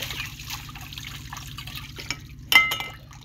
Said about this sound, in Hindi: नलका हम ऐसे करके चलाते हैं